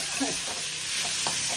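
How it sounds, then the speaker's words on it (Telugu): Tomatoes sizzle in hot oil in a pan for a peanut and cucumber chutney. The close, continuous hiss of frying carries on throughout with a few soft stirring scrapes and no talking. "అదే నూనెలో టమాటాలు వేసుకోండి"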